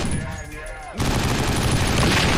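Heavy weapons open up in 50 Cent: Blood on the Sand, a video game: after a quieter second of ambient noise, a loud sustained barrage of rapid gunfire kicks in abruptly and keeps pounding to the end.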